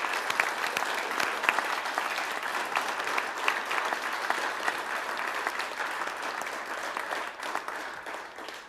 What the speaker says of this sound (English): A round of applause for all of you and for your parents